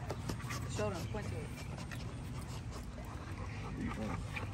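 A dog pants in quick, steady breaths up close while people talk over it outdoors.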